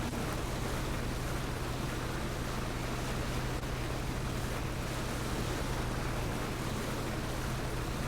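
Constant low engine hum of a boat over a wash of water noise in the video game PUBG, steady and unbroken, with no voices.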